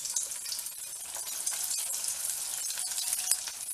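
Vazhaipoo kola urundai, banana-flower balls, frying in oil with a steady, dense crackling sizzle that holds at an even level throughout, close up with no voices.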